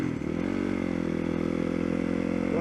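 Motorcycle engine running steadily at speed during a ride, a loud, continuous drone with rising harmonics and wind rush, alone without talk.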